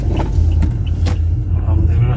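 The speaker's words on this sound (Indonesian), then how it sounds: "Banyak mobil dan motor nih." Cars and motorbikes crowd a busy roadside eatery, their steady low engine rumble running throughout with passing vehicle swells and voices chattering in the background.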